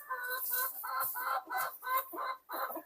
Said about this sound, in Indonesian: Inilah kehidupan ayam sehari-harinya